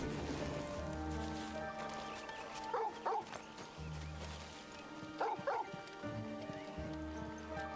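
The dog Torgal in Final Fantasy XVI gives two short bursts of barks and whimpers over a soft, rain-like game ambience and music.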